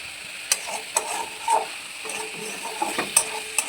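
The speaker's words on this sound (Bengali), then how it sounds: "এরকম করে মাশরুমটাকে আমরা প্রায় ভালো করে আধ ঘন্টার মতন আমরা মাশরুমটাকে কষাবো।" Sliced mushrooms are stirred and sautéed in a pan under a faint sizzle, with a spatula scraping and tapping the pan in irregular, fairly quiet strokes close by.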